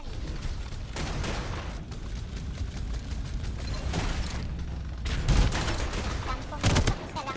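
Rapid bursts of gunfire in the battle royale shooter Farlight 84, sustained volleys with loud clustered shots near the end, heard under in-game ambience.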